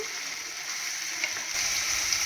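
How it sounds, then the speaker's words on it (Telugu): Chopped onions for chicken curry fry in a pan with a steady bright sizzle, close and continuous, rising a little in intensity partway through. "ఆనియన్స్ అనేది బాగా కొంచెం వేగాలండి"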